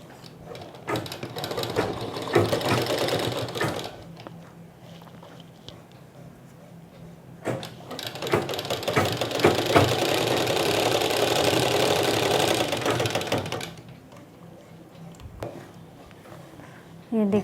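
Sewing machine stitching a seam on sharara pants fabric, running in two long steady bursts with a pause between, under a person talking.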